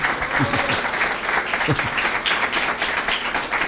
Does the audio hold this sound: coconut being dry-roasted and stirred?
no